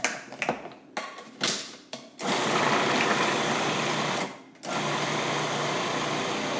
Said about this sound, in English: I'm going to pulse all this.